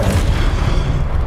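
A Confringo blast spell explodes in Hogwarts Legacy, a loud, deep booming burst that fills the short moment with heavy low rumble.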